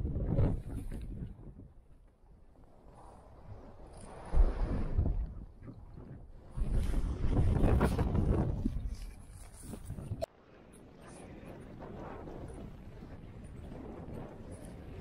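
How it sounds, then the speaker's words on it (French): Strong wind on the high slopes of Monte Rosa blows in loud, rumbling gusts that buffet the microphone, rising and easing across the recording with brief calmer gaps. "Il y a un vent de malade."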